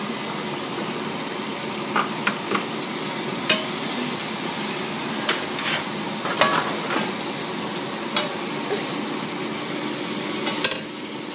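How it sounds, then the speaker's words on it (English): Shiitake mushroom and butternut squash risotto stirred in a hot pan, a steady close sizzle with scattered sharp clicks of the spoon against the pan, no voices. "Stir that around nicely"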